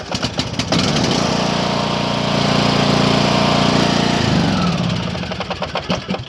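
Briggs 540cc engine on a Craftsman T2200 lawn tractor, freshly repaired camshaft, starting with a few sputters, then running at a steady loud hum for several seconds before winding down into uneven chugs.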